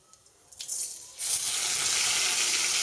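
Mashed pea paste hits hot oil in a kadai, bursting into a loud, continuous sizzle after a second of quiet clinks and light hissing.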